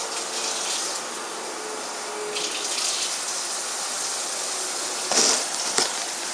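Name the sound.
cold water poured into biscuit mix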